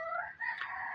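A single short vocalization from a naked neck chicken near a nesting spot, a close, bright cluck-like call lasting under a second with no talk around it.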